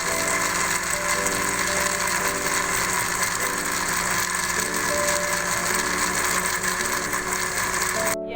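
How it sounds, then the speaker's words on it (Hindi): A kitchen blender grinds a pomegranate seed chutney with green chillies, a loud steady whirring motor drone that runs continuously for about eight seconds and cuts off abruptly at the end. "अब ये सारी चीज़ें शामिल करने के बाद मैं इसको अच्छी तरह से ब्लेंड कर लूँगी।"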